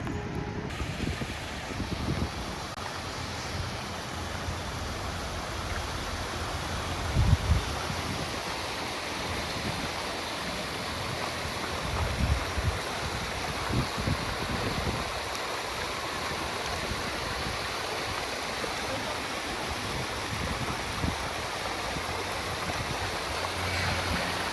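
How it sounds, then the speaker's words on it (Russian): A waterfall rushes in a steady, broad wash of falling water outdoors, heard continuously at a constant level with occasional low thumps, and no voices. "Действительно, водопад."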